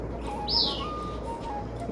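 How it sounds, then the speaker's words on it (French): Elaenia song in dry tropical forest on Guadeloupe: a single thin, high, slurred call, fairly near and brief, over a constant rushing ambient background with faint lower tones. "Donc ça c'est une élénie."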